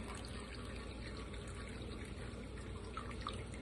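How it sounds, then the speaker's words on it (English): Chicken bone broth drains through a strainer with a steady, faint, even trickle of liquid and no talking. "I'm just going to take this, let it drain here a little bit"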